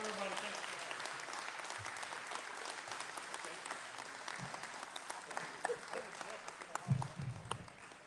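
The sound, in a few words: audience applause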